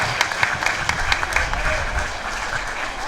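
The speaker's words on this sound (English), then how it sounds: "There's Strawn being applauded from the field" Crowd applause at a premier rugby union semi-final as a player walks off the field: steady scattered clapping from spectators, heard under a commentator's voice.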